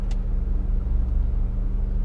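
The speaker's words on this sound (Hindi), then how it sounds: "हम थोड़ी सी आगे बढ़ा लेते गाड़ी उसके बाद।" A car engine idles in a steady, loud, low rumble from inside the car as it eases forward, with an even droning hum throughout and a brief click at the start.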